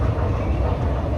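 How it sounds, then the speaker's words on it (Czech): A Prague metro train rumbles steadily for a brief moment, a dense low mechanical roar of the moving carriages, with no speech. "Jsme v metru."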